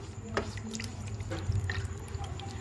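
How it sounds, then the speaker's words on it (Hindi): Water poured into green chili sauce to thin it, heard as faint trickling and small drips close by, without talk. "पानी डाल के उसको पतला पहले कर लें।"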